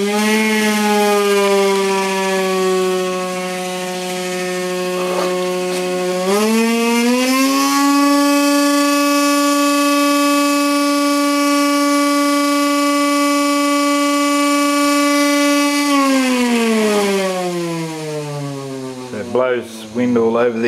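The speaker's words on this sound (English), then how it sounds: "You can hear it self-oscillating now." A window motor rigged with a generator coil and cooling fan, spinning near 16000 rpm, whines loudly and steadily in self-oscillation, its pitch stepping up partway through, holding, then sliding down at the end.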